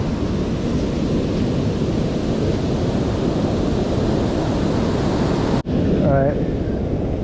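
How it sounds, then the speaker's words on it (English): Surf washes on a beach in a loud, continuous roar with wind buffeting the microphone. The sound cuts out briefly near the end, then returns with a tonal metal detector beep. "That's got a good little wave right there."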